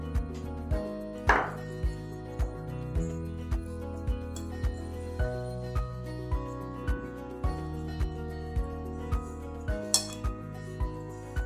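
Grated coconut being mixed with 150 grams of sugarcane jaggery in a karai wok, with a metal spoon clinking against the pan in a steady rhythm about twice a second, close and fairly crisp.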